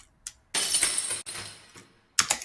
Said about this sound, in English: if you take a glass shattering sound